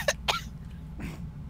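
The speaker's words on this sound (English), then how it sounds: "I got too excited. Now I'm coughing." Two quick, sharp coughs sound up close, then a softer throat-clearing cough follows after a short pause, over faint background hum.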